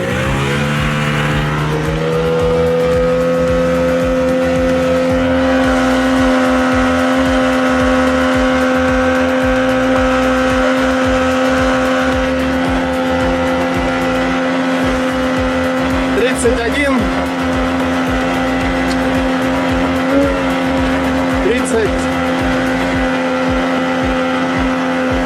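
A Vydra motorboat's motor drones steadily and loudly throughout during a load-capacity test, its pitch holding then rising slightly as the engine builds speed, with no voices over it.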